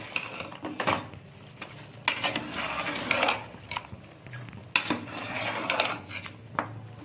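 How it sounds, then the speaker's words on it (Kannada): Mutton frying in a pan for natti-style green mutton chops, stirred with a metal spoon that scrapes and clanks against the pan in irregular bursts over a low sizzle, close and without speech. "ಮಟನ್ ಚೆನ್ನಾಗಿ ಫ್ರೈ ಆಗಿದೆ. ಚೆನ್ನಾಗಿ ತಿರ್ಸ್ಕೊಂಡು ಮಸಾಲೆ ಹುಯ್ಯೋಣ."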